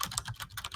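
Rapid typing on a computer keyboard during a tabletop role-playing session produces a quick, dense run of close, crisp key clicks with no pauses, heard alone without voices.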